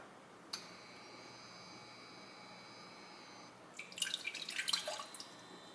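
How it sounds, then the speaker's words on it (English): Water is poured into a measuring cup for a homemade teriyaki sauce in a kitchen, a short burst of trickling and splashing near the end after a single clink and a faint electrical hum. "we're going to put in about"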